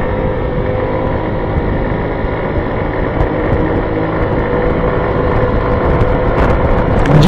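A Honda Ruckus scooter cruising on a short ride, its steady engine drone mixed with constant buffeting wind noise at close range, continuous and loud throughout with no talking.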